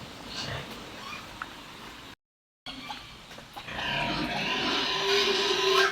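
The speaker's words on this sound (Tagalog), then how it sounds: "Maingay po yung baboy namin at nakahingi ng pagkain." A pig at a village fiesta squeals and grunts noisily, begging for food, amid a busy outdoor crowd with people talking. A high, drawn-out squeal rises toward the end, and there is a brief gap of silence midway.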